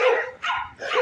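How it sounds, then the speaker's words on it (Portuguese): A dog barks three times in quick succession, close and loud, on a residential street in Jardim Marambaia, Colombo. "Cachorro aqui."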